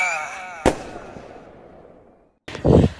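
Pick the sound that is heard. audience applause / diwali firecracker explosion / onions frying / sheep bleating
diwali firecracker explosion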